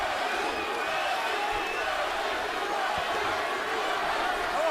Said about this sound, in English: And the crowd begins to chant Bradley, Bradley